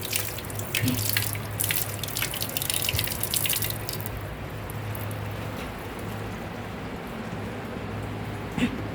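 Tap water runs steadily into a sink while a thermometer is rinsed, with a brighter splashing stretch at first that settles into a softer, even flow, plus a low steady hum underneath.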